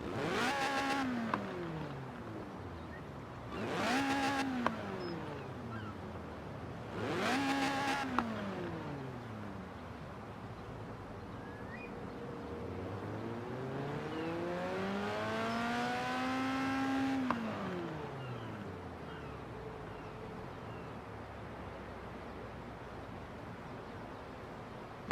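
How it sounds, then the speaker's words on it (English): A Lotus Elise Sport engine revs in the racing game Forza Horizon 4, three sharp rising and falling revs followed by a longer sweep up to high pitch that holds and drops, loud and close with no talk. "That's the engine of a Lotus Elise Sport."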